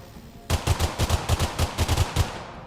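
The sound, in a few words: AK rifle gunfire in video game Drive Beyond Horizons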